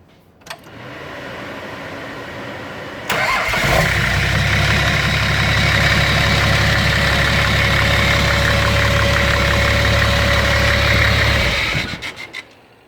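A Nissan TD42 turbo diesel engine with a 3-inch exhaust cranks, starts and settles into a loud, steady idle with a low rumbling knock, running close by before shutting off.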